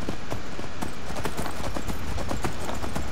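Horse hooves in the Skyrim video game clip-clop in a steady, rapid rhythm over a constant dense background, with no talking.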